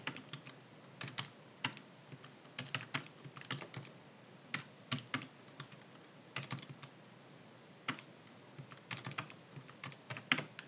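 Keys on a computer keyboard are struck close by during spreadsheet work, with quick scattered clicks and short bursts of typing and no voices.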